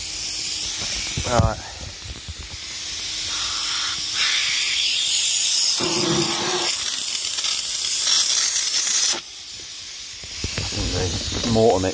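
Air-powered Terralene spray gun throws a fairly thick mortar mix, giving several long, loud broadband hissing bursts that start and stop over about twelve seconds, with a brief spoken word near the start.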